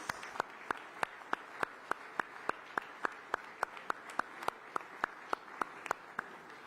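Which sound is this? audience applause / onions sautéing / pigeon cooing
audience applause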